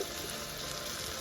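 Water pours into a pan of sizzling potato, paneer and mushroom masala, giving a steady, close hissing wash with no pauses.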